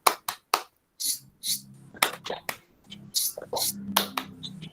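A school class performs a tepuk diam clapping routine, a rhythmic pattern of sharp separate claps and slaps, with a voice and talking mixed between the beats.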